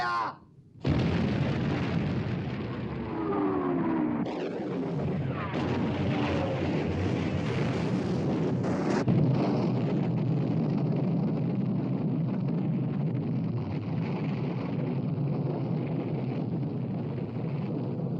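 Warship guns firing and shells exploding in a naval war film about the Bismarck, a sudden heavy blast followed by sustained roaring rumble and booming, loud and dense, with a brief voice early on.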